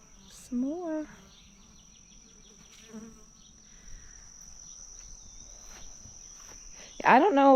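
Honeybees buzz around hives in a garden apiary, a steady faint hum with individual bees passing close and fading, joined by a few brief bird chirps and a louder buzzing fly-by at the end.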